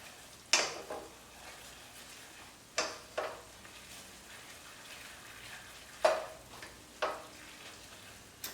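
Mushroom spinach risotto being stirred in a pot, with a soft, steady simmering hiss broken by several distinct scrapes and taps of the spoon against the pot at irregular intervals.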